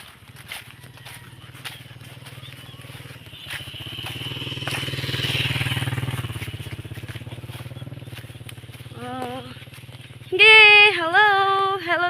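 A motorcycle's engine swells as it passes nearby, rising to a peak and fading over several seconds amid outdoor background noise, before voices break in near the end.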